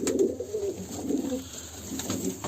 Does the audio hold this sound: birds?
yes